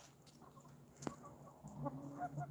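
Backyard chickens clucking softly at close range, a few scattered quiet clucks and murmurs with one sharp click in a calm outdoor setting.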